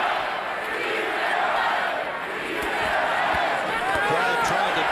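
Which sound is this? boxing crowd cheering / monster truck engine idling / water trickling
boxing crowd cheering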